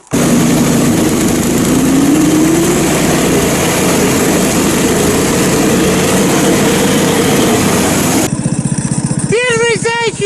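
A vehicle engine roars loudly and steadily as it drives on over snow, its pitch rising as it moves off, then shifting near the end, where a voice speaks briefly over it.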